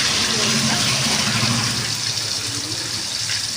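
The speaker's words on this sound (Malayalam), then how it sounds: "എണ്ണ നന്നായിട്ട് തിളച്ചിട്ടുണ്ട് നമുക്ക് അതിനകത്തോട്ട് ആദ്യം കുറച്ച് കറിവേപ്പില ഇട്ട് കൊടുക്കാം നമ്മുടെ പിലോപ്പി നമുക്ക് പാനിലോട്ട്" Tilapia and curry leaves frying in hot oil in a pan give a loud, dense sizzle and crackle that runs steadily throughout, close to the listener.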